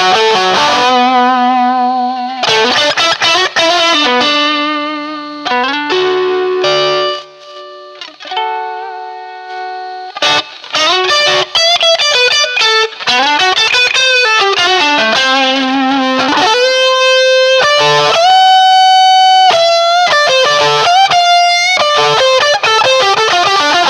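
An electric guitar played through a BSM HS-S treble booster, with loud, harmonically rich distorted lead lines, bends and sustained notes that run continuously with short pauses and no talk.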